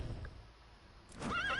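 A horse neighs in the Metal Gear Solid V: The Phantom Pain video game, a short, clear, wavering whinny close up at the end, after a brief clip-clop of hooves over quiet background.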